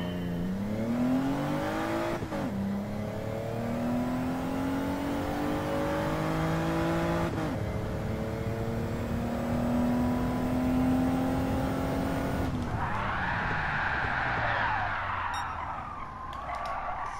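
Car engine in Gran Turismo 7 revving through rising gear pulls with shifts, then a loud tyre skid squeal near the end, continuous and close throughout.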